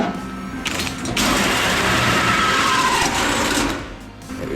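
A small hole saw grinds into the metal body of a car during a Ford Barra build, a loud, sustained gritty buzzing that starts abruptly, holds steady for about three seconds, then drops away.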